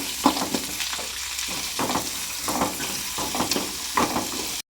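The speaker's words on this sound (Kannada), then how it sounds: "ಬೆಳ್ಳುಳ್ಳಿ, ಸಣ್ಣಗೆ ಹೆಚ್ಚಿರೋ ಈರುಳ್ಳಿ, ಸ್ವಲ್ಪ ಬಾಡಿಸ್ಕೋಬೇಕು." Garlic and finely chopped onion fry in hot oil, giving a steady moderate sizzle broken by repeated scraping stirs at an even rhythm, close up with no voices.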